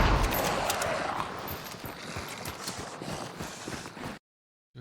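Rapid running footsteps in Hunt: Showdown thud steadily and close on a hard surface for about four seconds before the sound drops out abruptly.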